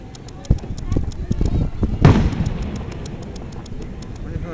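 A July 4th fireworks display in Vineland, New Jersey, around 9 pm, with a sharp bang followed by a louder boom and rumbling crackle. People talk over it throughout.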